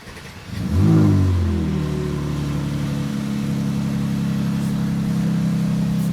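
A 2020 Mercedes-AMG GLC 43 engine cranks and fires, flares up in a quick rev, then settles into a steady, throaty idle.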